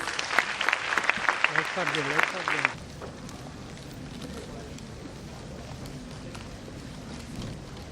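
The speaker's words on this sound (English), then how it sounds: "A huge round of applause, please." Crowd applauding at a logo launch event, a dense burst of clapping for under three seconds that cuts off abruptly. A voice and low background murmur follow.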